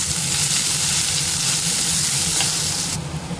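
Onions sautéing in a pan for egg Manchurian, a steady, close sizzling hiss that runs evenly throughout with no talk over it.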